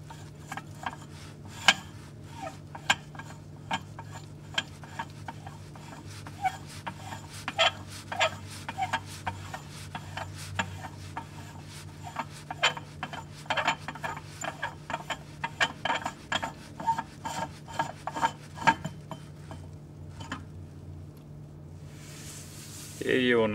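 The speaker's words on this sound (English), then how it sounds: "hold the step, which is used to change your grind, down and unscrew the collar completely off" The collar of a Quamar M80e coffee grinder is unscrewed while the grind-adjustment step is held down, giving a series of small irregular clicks and ratcheting ticks, fairly quiet, with a steady low hum underneath.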